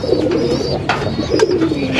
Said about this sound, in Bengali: ডাকতে পারে না একদম ছোটো বাচ্চা চিচি করে